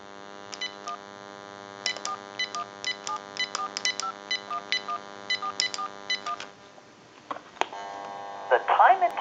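Touch-tone dialing on a GE 27909 cordless telephone: a quick series of short, clear beeps of varied pitch over a steady hum, followed by noisier line sounds and a brief tone burst.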